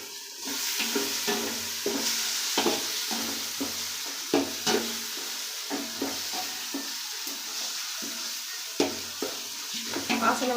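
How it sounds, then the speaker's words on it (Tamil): Chicken with ginger garlic paste stirred in a sizzling pan, a steady hiss of frying under repeated scraping strokes of a spoon against the metal, close and fairly loud throughout. "இஞ்சி பூண்டு பேஸ்ட்டு வந்து போட்டாச்சுங்க அடிப்பிடிக்குது டக்குன்னு கிளறுங்க"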